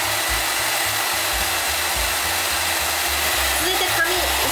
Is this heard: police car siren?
no